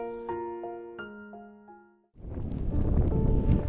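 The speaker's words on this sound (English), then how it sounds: "the wind is starting to pick up, bringing with it the freezing cold" Strong mountain wind rushes past in winter, a dense, loud, continuous roar that sets in suddenly after a fading musical tone.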